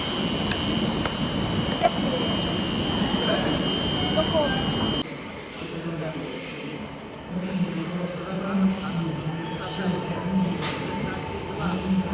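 An Intercity train passing through Kraków, a broad rumbling roar with steady tonal hum that drops after a few seconds to a lower rolling clatter, fairly close and sustained.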